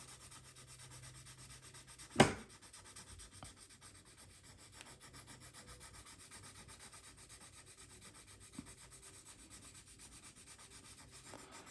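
Faint, steady rubbing of a violet colored pencil laying a light coat over green on watercolor paper, soft and close, with one sharp tap early on and no voices.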